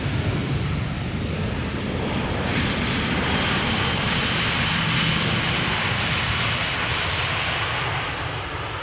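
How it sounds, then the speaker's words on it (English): A Vueling airliner touching down at Amsterdam Schiphol Airport gives a broad, steady roar of jet engines and rushing air, loud and sustained for several seconds without talking. "Right, Vueling is touching down."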